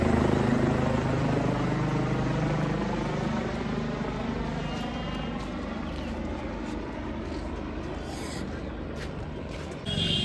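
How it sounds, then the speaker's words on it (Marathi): A steady, loud mechanical rotor drone continues throughout, a helicopter flying overhead near Guptkashi in Uttarakhand, on the Kedarnath route, with no pauses or talk. "हेलिकॉप्टर आहे, तुम्हाला दाखवतो मी"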